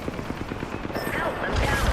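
Rapid automatic gunfire in a battle royale shooter, a dense run of quick close shots lasting a couple of seconds, with a brief game voice line over the top.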